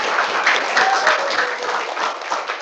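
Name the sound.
audience applause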